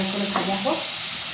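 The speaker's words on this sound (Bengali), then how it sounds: "একটু লাল করে ভাজা হোক" Potatoes sizzle in a hot pan as they fry toward reddish-brown, a dense close hiss with a short stirring scrape in the middle of a brief moment.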